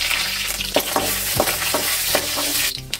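Mustard seeds and urad dal splutter in homemade ghee, crackling and popping in a steady sizzle with repeated sharp scrapes of a spoon stirring the pan, close up and loud.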